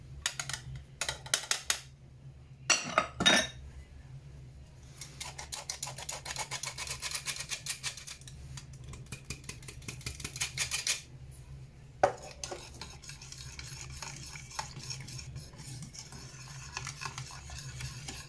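A spoon stirs a cocoa and cornstarch mixture for hot chocolate in a bowl, making quiet, rapid scraping and clinking strokes in bursts with short pauses between them.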